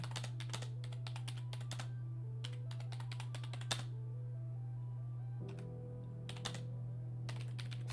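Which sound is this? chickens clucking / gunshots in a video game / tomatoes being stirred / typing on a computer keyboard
typing on a computer keyboard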